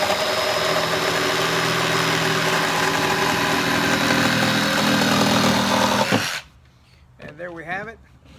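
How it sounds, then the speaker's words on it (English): A Kobalt 24-volt cordless jigsaw cuts through a 2x4 with a loud, continuous buzzing rattle for about six seconds, then stops abruptly, followed by brief talking. "So here's my jigsaw display, and we're going to cut a 2x4."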